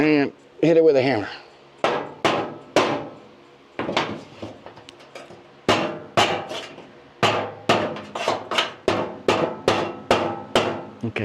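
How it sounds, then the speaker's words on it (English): A hammer strikes metal while a part is driven into place during a Mustang transfer. Sharp metallic blows repeat in a steady, fairly loud rhythm, each ringing briefly, with a short stretch of speech at the start. "And hit it with a hammer."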